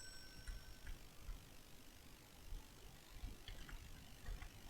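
Ratchet wrench clicking in a garage while a car is being dismantled, faint bursts of quick mechanical clicks against a quiet background, fairly distant and intermittent.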